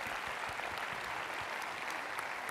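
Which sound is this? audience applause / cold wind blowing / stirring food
audience applause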